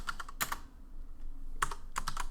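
A computer keyboard typing a command on a Windows machine, heard as two short bursts of crisp, close key clicks separated by a quiet pause, with no talking.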